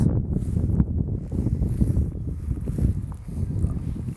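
Strong wind buffets the microphone near Inverness Airport in a steady, roaring rumble with gusty surges throughout, no voices present.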